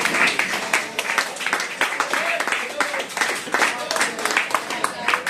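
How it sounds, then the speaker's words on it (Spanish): Rhythmic clapping from a church congregation during a service, steady repeated claps near and fairly loud, with voices mixed in. "Den un aplauso a Jesucristo"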